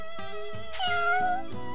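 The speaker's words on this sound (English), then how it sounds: "You mean these cats?" Several cats meow in Shining Resonance Refrain, a few short close mews in quick succession followed by a longer drawn-out meow, loud and clear with no talking.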